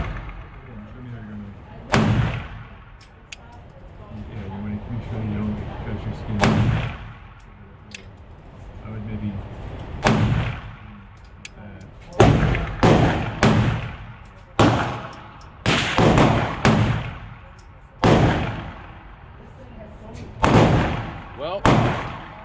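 Pistol shots from a CZ P-10M firing 80 grain Fort Scott rounds at a target range, about a dozen sharp, loud reports spread irregularly over the span, with tighter clusters in the second half and no talk.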